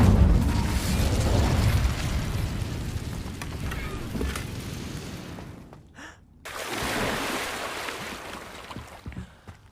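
Incendio fire spell cast in Hogwarts Legacy: a dense, roaring burst of flame and rumble that fades, a brief near-silent gap, then a second whooshing burst with crackling pops trailing off.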